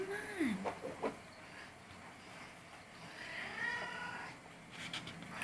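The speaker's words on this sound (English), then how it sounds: "He's just gonna meow at me." A male cat meows indoors, with a few short calls near the start and a longer drawn-out meow in the middle, fairly close and moderately loud against a quiet room.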